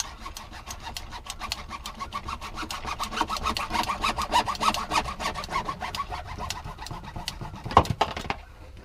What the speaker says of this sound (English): We're going to cut the PVC off here, put a 90 on it, direct it down